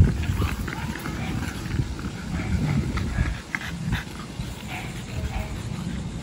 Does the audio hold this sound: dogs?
yes